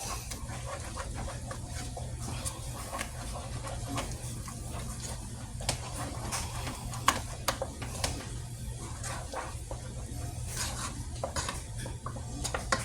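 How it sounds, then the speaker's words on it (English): Fried chicken batter made with half and half being stirred until smooth in a bowl: a steady, faint scraping and soft clinking of utensil against the bowl, continuous and close, with a low background hum. "we're going to stir this bad boy up until it is smooth and creamy in consistency"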